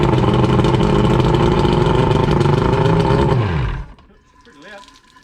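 A Johnson 90 outboard boat engine roars loudly and steadily just after starting, a dense droning run that holds for several seconds, then drops off abruptly, leaving faint background noise and distant voices.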